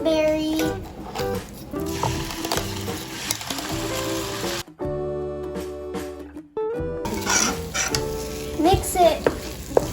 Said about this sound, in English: Add red chili powder. Mix it. Add the gooseberry.